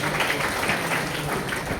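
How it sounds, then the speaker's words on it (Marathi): Audience clapping at a school quiz competition for a contestant who answered correctly, a steady burst of applause across the whole moment, fairly loud and unbroken. "मॅडम साठी जोरदार टाळ्या"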